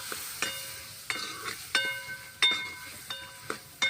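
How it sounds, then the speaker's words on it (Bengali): Cashews fry in butter in a pan while being stirred, with a soft steady sizzle broken by a series of sharp clinks and scrapes from the utensil every half second or so, heard up close. "প্রথমে বাটার দিলাম, তারপরে কাজুটা দিয়ে দিলাম। কাজুটা একটু ভাজবো,"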